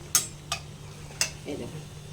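Kachori made with sattu frying in hot oil, soft sizzle under a few sharp clinks and scrapes of a metal utensil against the pan, close and fairly quiet.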